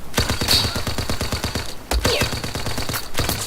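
Rapid bursts of light machine gun fire in Battlefield 4 on the Gulf of Oman map, close and loud, rattling in quick repeated volleys with brief pauses between strings of shots.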